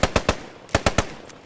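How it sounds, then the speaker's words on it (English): Machine gun suppressive fire during infantry section attack training: two quick bursts of three sharp shots each, loud and close, with a short pause between them and no voices. "suppression fire steady"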